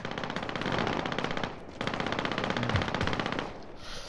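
Rapid, sustained automatic machine-gun fire in a shooter video game: a loud, tightly spaced rattle that pauses briefly, resumes, then cuts off near the end.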